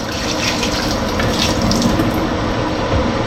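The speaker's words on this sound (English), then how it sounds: "now we're gonna empty a few of these jars that have the hot water in them" Hot water is emptied out of glass canning jars while peach jelly is being made in a kitchen, giving a continuous splashing, gushing pour that stays fairly loud and steady throughout.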